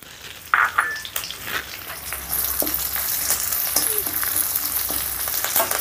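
Garlic cloves, cumin seeds, dried red chillies and curry leaves crackle in hot oil, a loud burst as they drop in, then a steady close sizzle with scattered pops and light stirring.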